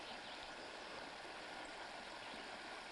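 River flowing over rock fill near an old railway bridge site at Nolalu, Ontario, a steady broadband rushing and gurgling of water, constant and moderately close, with no voices.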